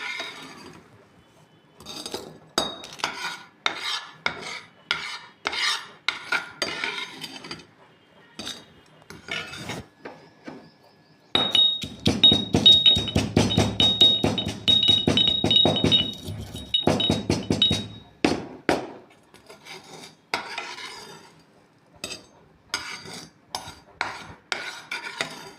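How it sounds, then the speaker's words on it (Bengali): Fried spices pounded in a mortar and pestle while making aloo paratha: a rapid series of close, sharp knocks and clinks in uneven bursts, with a dense stretch of steady pounding midway. "আমি এই ভাজা মশলাটাকে হামানদিস্তা দিয়ে গুঁড়ো করে নেব"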